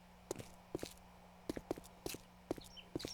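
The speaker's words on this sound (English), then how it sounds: "I know y'all heard them footsteps" Footsteps in the video game 7 Days to Die: a series of sharp, evenly spaced thuds over a faint steady hum, fairly quiet, with no speech.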